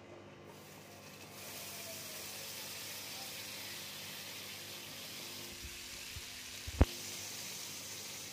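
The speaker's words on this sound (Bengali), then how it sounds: "এবার দেখো তাওয়ার মধ্যে আমি একটু বাটার দিয়ে দিচ্ছি।" Butter melting on a hot tawa for garlic bread, a soft steady hiss rising after a quiet start and holding, with a single sharp knock near the end.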